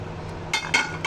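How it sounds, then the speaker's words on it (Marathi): Roasted peanuts tipped into a mixer jar make two short rattling clinks close by in a quiet kitchen. "आता मी हे मिक्सरमध्ये टाकते, भांड्यामध्ये टाकते मिक्सरच्या."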